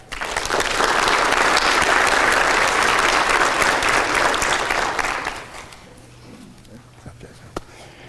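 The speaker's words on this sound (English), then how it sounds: "So please give him a round of applause." An audience at a sheriff's office swearing-in ceremony gives dense, loud applause for about five seconds. It then fades to a few scattered claps and room murmur.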